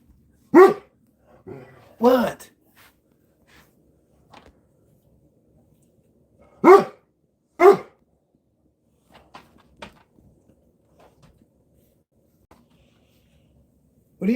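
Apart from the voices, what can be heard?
dogs barking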